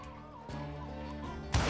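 Chickens cluck in a short burst in the Wild West shooter Call of Juarez: Gunslinger, a few nasal, throaty clucks up close, followed by a sudden loud crash at the end.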